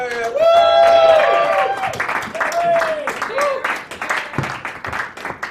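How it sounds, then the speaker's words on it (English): An open-mic audience at a sports bar claps and cheers as a comedian is called to the stage, with a loud whooping voice over the crowd's applause and talk continuing under the clapping. "give a round of applause for Larry Mahan"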